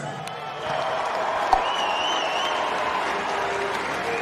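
A crowd cheers and applauds at a live main event boxing match. The roar is steady and fairly loud, with a spike of noise partway through.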